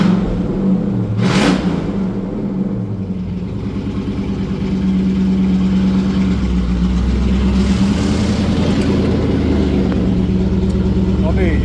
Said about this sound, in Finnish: Putket loppuu auto alle, niin on meteli aika kova.